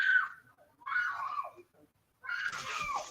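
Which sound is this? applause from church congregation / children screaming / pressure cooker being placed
children screaming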